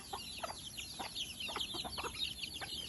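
Chickens clucking in a rural Philippine farmyard, a run of short repeated clucks at close to moderate distance over steady outdoor background noise, with no talking.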